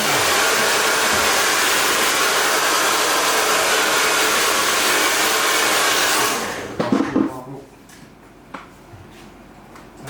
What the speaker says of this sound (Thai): เป่าผมกันนะ